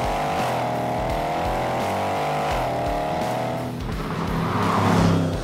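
Walkinshaw W407 Commodore with a naturally aspirated V8, roaring loud and close as it revs and accelerates hard, dropping briefly as it changes gear, then climbing again.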